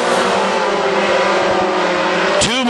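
WISSOTA Mod Four race cars roar around Granite City Speedway on the final lap, a loud sustained engine drone that swells as a car passes close by near the end.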